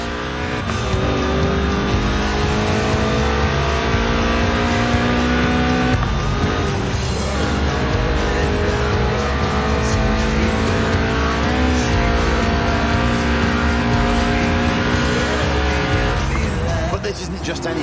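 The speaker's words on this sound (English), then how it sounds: "This isn't just any Elise, it's a Sport 190, a tuned-up, stripped-out Elise for track days." A tuned, stripped-out Lotus Elise Sport 190 track-day roadster, mid-engined and rear-wheel drive, in the Forza Horizon 4 racing game: its engine drones loudly and continuously with rising and falling pitch sweeps, under a voice talking throughout.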